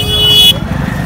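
A vehicle horn blares in a busy Ludhiana bazaar, one loud sustained honk lasting about half a second, then cut off amid street noise with voices.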